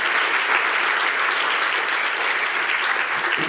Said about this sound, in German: Geben wir ihnen einen lauten Applaus hier aus dem Kalkofen raus.